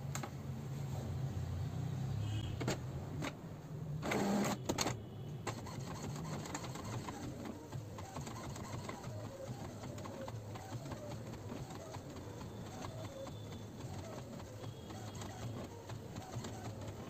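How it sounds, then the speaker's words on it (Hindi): An HP GT-series ink tank printer runs a colour page, giving a steady mechanical whirring with repeated rhythmic clicks and feeding sounds, fairly quiet and continuous throughout, with a brief louder clatter early on. "कलर प्रिंट कर रहा हूँ।"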